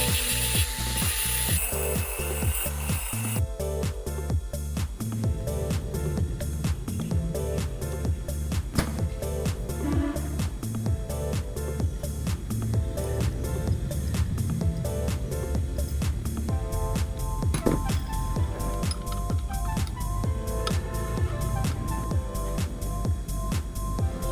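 A steel lead screw head for a drill vise being machined to form its joint with the moving jaw, giving a steady, loud, continuous cutting and grinding racket with rhythmic pulses throughout.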